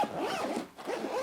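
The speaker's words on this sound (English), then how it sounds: "Zipper pulls quite nicely." Zipper on an Aer Day Sling 3 Max bag in X-Pac fabric being pulled close up, a continuous scratchy zip with a brief pause midway before resuming.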